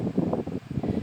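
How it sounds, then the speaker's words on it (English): Wind buffets the microphone in short, low rumbling gusts outdoors in a garden, close and fairly loud, with no talking. "I apologize for the wind."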